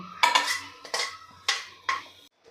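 Fried dry fruits being scooped from a pan into a dish, producing four distinct clinks and scrapes of a spoon against metal cookware, close and clear with no talking.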